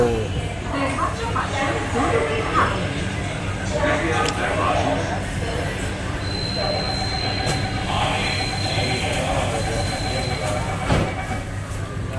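Inside a Mumbai underground metro train in motion, a steady rolling rumble with faint squeals and occasional clanks, a sustained whine rising midway, voices talking over the noise.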